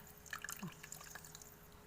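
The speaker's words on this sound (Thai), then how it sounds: "เราจะเติม มะนาวลงไปด้วยนะ ทุกคนจะได้แซ่บเนาะ" Lime juice drips and trickles into a Thai noodle salad dressing of tamarind, shrimp paste, palm sugar and salt, giving soft, close splashes and drips with no voices.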